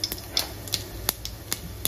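Mustard seeds pop and sputter in hot oil, half a spoonful, sharp irregular crackles every fraction of a second over a faint steady background hiss.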